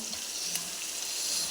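Dried ray fish fries in a pan, a loud, close, continuous sizzle with crackling spatter and one sharper pop, with no one speaking.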